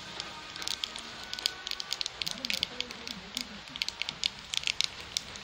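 Nigella seeds (black cumin) with dried chillies crackling in hot oil for an egg curry, quick faint pops and spatters over a soft sizzle, with a voice speaking briefly.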